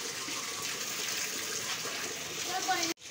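Water runs steadily into a container, being filled to wash flower decorations at a marriage hall. The gush is continuous and moderately close, and it stops abruptly just before the end.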